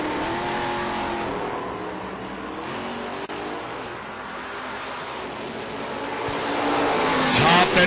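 A small pickup truck races down a drag strip in an IHRA Pro-am event at Union County, North Carolina, its engine a loud, sustained roar that climbs in pitch and swells as it passes near.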